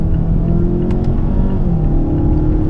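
A 2018 Mazda 6 Turbo pulls hard in second gear to pass a truck, its engine note rising and droning steadily from inside the cabin, loud and continuous.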